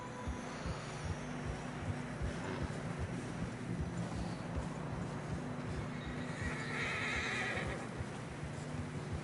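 In the video game Red Dead Redemption 2, hooves keep up a steady clip-clop through fresh snow beneath a continuous rumbling bed, and a horse whinnies partway through, moderately loud.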